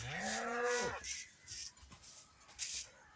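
A cow moos once in the Minecraft video game, a loud drawn-out low call ending abruptly, followed by quieter game sounds and faint talk.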